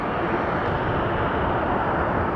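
A fixed-wing airplane flies over Atlanta Hartsfield-Jackson airport, its engine roar a loud, steady, broadband rumble sustained throughout without talk.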